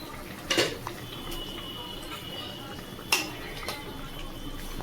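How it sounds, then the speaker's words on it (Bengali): A metal lid is lifted from a pot of simmering tilapia curry with eggplant and potato, giving two bright clanks a few seconds apart, close to the microphone, over a soft, steady kitchen hiss. "ঢাকনাটা খুলে দেখবো"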